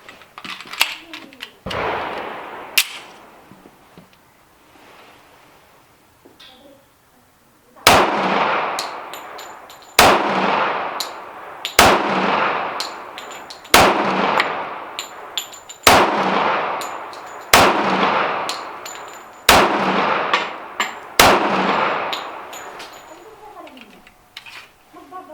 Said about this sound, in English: it's a really smooth shooting gun